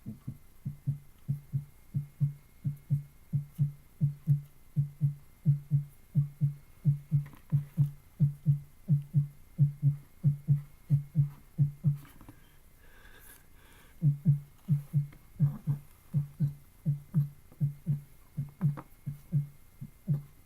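A person imitates a heartbeat vocally with steady, evenly paced low double thumps that break off briefly partway through and then resume in the same rhythm, close and alone.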